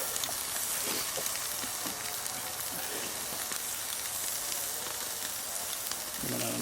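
A prime rib roast sears over a charcoal grill, giving off a close, steady crackling sizzle that hisses without pause for several seconds.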